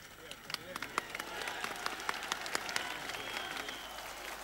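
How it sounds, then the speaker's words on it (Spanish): A large crowd at a political rally in Córdoba supporting the Yes vote in the Beagle referendum bursts into sustained applause, dense rapid clapping with sharper individual claps, while a voice talks over it. "Como ustedes pueden escuchar de fondo, el aplauso de esta gran cantidad de público"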